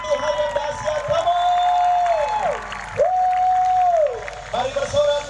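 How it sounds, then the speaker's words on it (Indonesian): Crowd applauding at an outdoor night worship rally, a steady wash of clapping and cheering carrying on under a long, sustained voice projected over the gathering. "Tepuk tangan buat Tuhan yang dahsyat, kamu."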